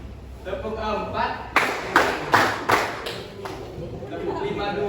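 In a high school classroom, students clap in unison four times in a counting game, loud sharp group claps evenly spaced, with a teacher speaking before and after.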